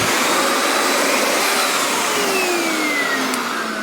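A Black+Decker VH802 800-watt bagless vacuum cleaner runs steadily and loudly close by, its airy whine holding a constant level throughout with no talking.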